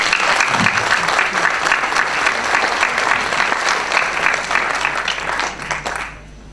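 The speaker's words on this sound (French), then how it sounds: "Je pense qu'on peut l'applaudir." Sustained applause from a conference audience fills the room, a dense, steady clapping that carries on for several seconds before tapering off at the end.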